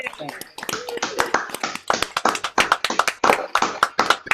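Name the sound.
audience applauding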